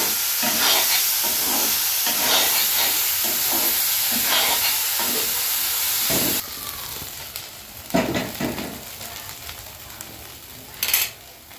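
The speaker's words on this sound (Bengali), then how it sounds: "এটা ভালো করে ভেজে নেব।" Tomatoes frying in a pan, a loud continuous sizzle with rhythmic stirring scrapes that drops quieter partway through, leaving softer sizzling and occasional clinks of the utensil.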